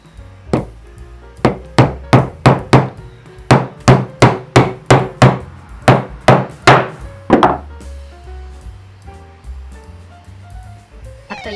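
Snapped-off coarse thread screws, several broken together into a plate, are hammered into wood: a loud, close run of about twenty sharp hammer blows in steady bursts, followed by quieter knocking.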